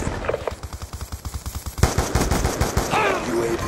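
Rapid bursts of SMR rifle fire in Black Ops 2 multiplayer, loud rhythmic shots in quick succession with a brief louder crack midway and game effects trailing at the end.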